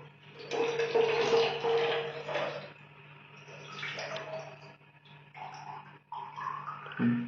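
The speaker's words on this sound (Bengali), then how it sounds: "আমি জাস্ট জলটাকে খুলবো হালকা করে, অল্প অল্প অল্প করে এখান থেকে জল ভরে নেবো।" Tap water runs gently into a small container while a methylene blue solution for aquarium fish is prepared. A close, steady trickle and splash continues, with its pitch rising as the vessel fills.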